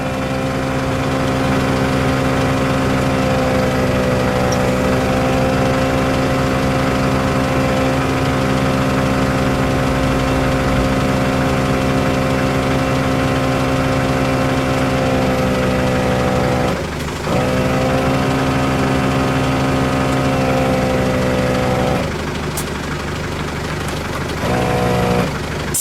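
A Milwaukee M18 cordless tyre inflator runs steadily at close range, a loud, continuous mechanical drone with a strong pitched hum that dips briefly once before carrying on.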